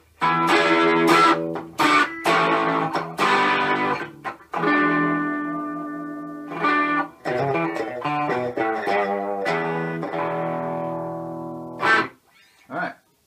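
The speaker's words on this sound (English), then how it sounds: "Much distortion all the time." Electric guitar played through a tube amp with heavy distortion, a series of sustained crunchy chords and notes with short gaps between phrases.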